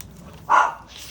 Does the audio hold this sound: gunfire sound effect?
no